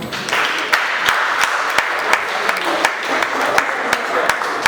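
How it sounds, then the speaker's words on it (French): An audience claps for a politician, Lili Lumande, at an honouring event: steady, fairly close applause with sharp individual claps popping out of a continuous crowd wash. "Applaudissez pour lui."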